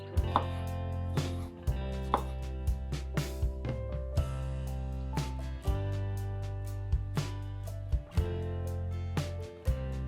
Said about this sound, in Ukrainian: У піці чудово смакуватимуть помідори. Нарізаємо їх.